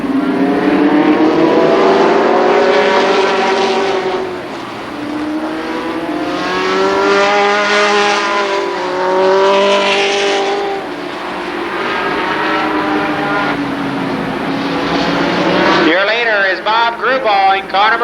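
Limited Sportsman race cars roar around the dirt oval at Columbus Motor Speedway in a heat race, engines loud and continuous with rising and falling revs as cars pass, under an announcer's steady commentary.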